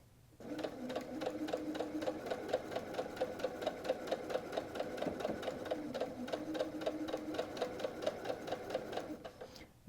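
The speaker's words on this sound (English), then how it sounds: "and start sewing." Sewing machine stitching a seam on a quilted flying geese zipper pouch runs in a steady, even rapid rhythm of needle strokes, close and moderately quiet, starting after a brief pause and continuing without talk.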